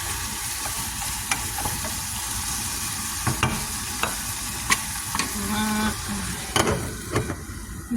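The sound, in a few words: frying tibs in a pan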